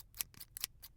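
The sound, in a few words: scissors cutting paper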